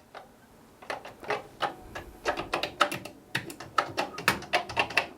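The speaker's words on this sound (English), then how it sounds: "Apart from the echo of the keyboard." Clicks from a computer keyboard being typed on, part of a Commodore machine's setup, come in an irregular run of sharp, echoing taps, close and fairly loud, with no voices.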